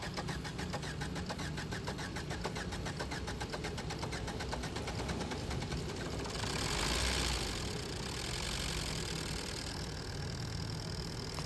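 A Maruti Swift diesel engine, just refitted with a new head gasket, cranks with a rapid rhythmic chug for several seconds, then catches and settles into a steady idle close by.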